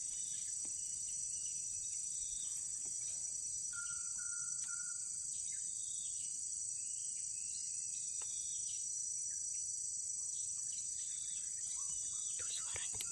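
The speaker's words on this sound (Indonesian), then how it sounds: "Kami dengar suara burung." Birds call intermittently in a garden among trees, with short thin chirps and a brief whistled note standing out over a steady high insect drone, all fairly faint and distant.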